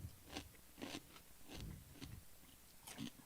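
Crunchy bread and butter pickles being bitten and chewed close up, with several crisp, wet crunches spaced out in a loose rhythm against a quiet background and no talking.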